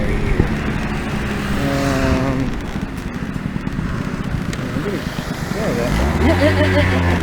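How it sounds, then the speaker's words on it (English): A car engine idles steadily with a low, even rumble throughout, partly under people talking nearby, and the tone shifts slightly near the end. "She's idling real nice now."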